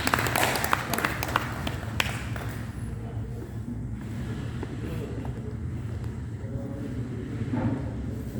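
An audience applauds at a Spanish-language novel presentation, a burst of dense clapping at the start that thins into scattered claps and a low room murmur.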